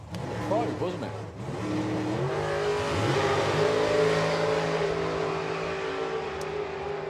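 Drag race cars roar as they accelerate down the strip at a power festival, a loud sustained engine drone rising in pitch over several seconds, with commentators talking over it.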